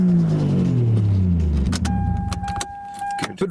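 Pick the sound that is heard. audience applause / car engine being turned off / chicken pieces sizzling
car engine being turned off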